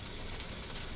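Garlic frying in a pan gives off a steady, even sizzle for a brief moment, close and moderately loud, with no talking.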